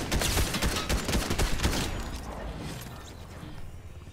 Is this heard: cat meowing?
no